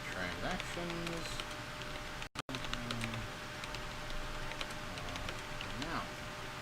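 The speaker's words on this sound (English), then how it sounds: "Ah, I'm terrible at typing, sorry." Clicking keys on a computer keyboard tap out in quick irregular bursts during a live software demo, a voice and faint tones sounding underneath, with a brief dropout partway through.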